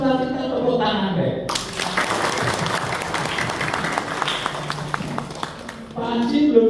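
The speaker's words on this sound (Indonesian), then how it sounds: "Yang merasa suka kita tepuk tangan deh" An audience at a married couples' church fellowship gathering claps hands together in a steady, dense burst of applause lasting several seconds, with speech before and after.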